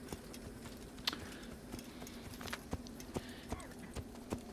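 Horse hooves clip-clopping at a steady riding pace in Assassin's Creed, a faint, even rhythm of soft thuds with sharper accents over a low constant hum, no voices.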